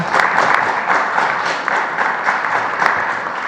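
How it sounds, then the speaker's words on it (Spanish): An audience at Mexico's presidential morning press conference applauds, a loud, thick wash of many hands clapping together, steady and unbroken with no voices over it. "En el Mundial, un aplauso."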